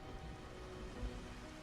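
Steady rain falling in the video game Xenoblade Chronicles, a continuous even hiss of drops with a low rumble underneath, heard alone with no talking.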